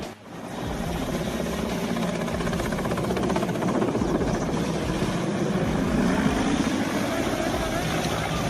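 A Mexican Mi-17 helicopter makes an emergency landing, producing a steady, loud roar of engine and rotor that fills the whole stretch without pause.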